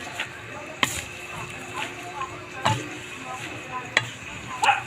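Sweet potato leaves and sardines are stirred in a frying pan, giving a steady low sizzle broken by several sharp scraping knocks of the utensil against the pan.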